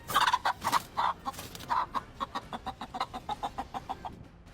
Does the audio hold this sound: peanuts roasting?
no